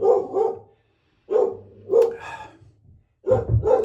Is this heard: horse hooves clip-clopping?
no